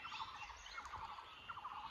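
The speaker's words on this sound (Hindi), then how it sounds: "ये चिड़ियों की आवाज" Birds chirping in the Uttarakhand mountains: repeated bright twittering calls in short bursts over a soft steady outdoor hiss, moderately near and with no voices.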